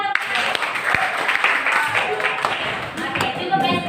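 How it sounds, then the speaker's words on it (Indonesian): A classroom group claps in a steady, dense round of applause lasting several seconds, fairly close, with some voices mixed in. "Iya, tepuk tangan untuk."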